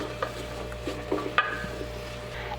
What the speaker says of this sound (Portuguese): E vou dar uma mexidinha aqui.